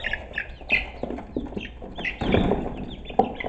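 Chickens cluck repeatedly at close range in a farmyard animal pen, with busy fowl chatter and soft scuffling that rises into a louder flurry of clucks partway through.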